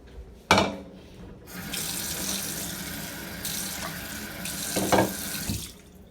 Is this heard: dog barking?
no